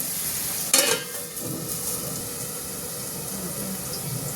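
Potatoes sauté in a pan on a home stove before peas go in, a steady soft sizzle running throughout with a brief clatter of stirring near the start.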